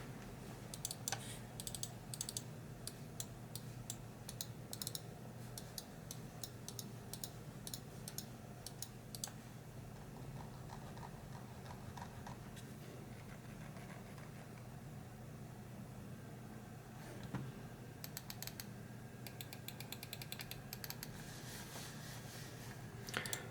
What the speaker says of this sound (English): I'm just going to do some random clicking and scrolling around and moving around so you guys can hear it